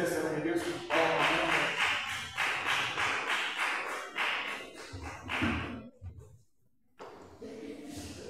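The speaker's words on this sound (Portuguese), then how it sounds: "Vamos receber a senhora de Deus com palmas." A church congregation claps to welcome a woman into the service, a steady run of rhythmic applause followed by a short pause, then a voice speaking.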